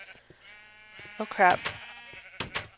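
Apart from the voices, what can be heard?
sheep bleating in a video game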